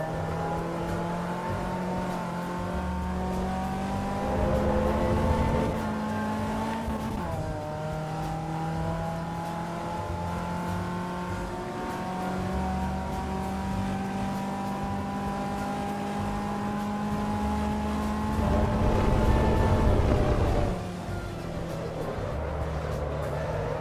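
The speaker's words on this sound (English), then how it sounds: "curb sounds, they're so loud" A Caterham race car laps the Spielberg circuit, its engine droning steadily with shifting revs and louder rough bursts as it rides over the curbs, continuous and close throughout.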